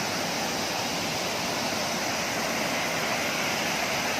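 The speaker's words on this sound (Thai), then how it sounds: "นี่ครับน้ำตก" The Datanla waterfall near Dalat, Vietnam, roars as a steady, dense broadband rush of falling water, loud and close, unbroken throughout with no voices over it.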